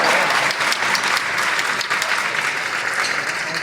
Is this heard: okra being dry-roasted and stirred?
no